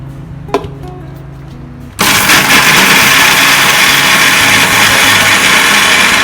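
A mixer grinder grinding adai dosa batter of soaked dals with a little water starts abruptly after a short quiet moment, then runs as a loud, steady, high-pitched motor whir to the end.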